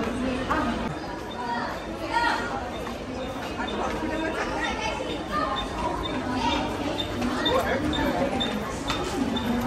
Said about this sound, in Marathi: ही आहे ठाणे स्टेशनवरची गर्दी.